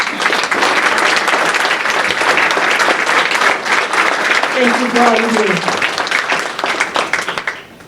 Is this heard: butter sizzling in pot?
no